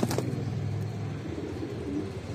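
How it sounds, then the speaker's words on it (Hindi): Fancy pet pigeons in a home loft, Kalsare, Golden Bajre and Lalsare breeds, giving low rolling coos close by, with steady low murmuring throughout and no talk. "दोस्तों ये शौक वाले कबूतर हैं"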